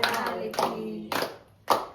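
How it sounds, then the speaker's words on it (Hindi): A few people clap in separate bursts at a family jhola celebration in a home. The bursts are short and close, with quiet gaps between them. "चलो सब लोग ही ताली बजा दो"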